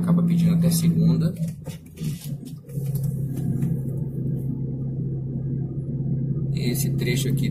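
A car climbs a steep hill in second gear with its engine laboring in a low, steady drone heard from inside the cabin. A driver talks over the engine noise.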